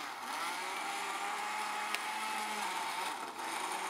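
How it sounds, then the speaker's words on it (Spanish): A blender runs continuously, whirring steadily as it blends green juice made with lemon juice; the motor whine stays loud and even throughout, with a brief dip near the end, and no one speaks. "vamos a ponernos a licuar"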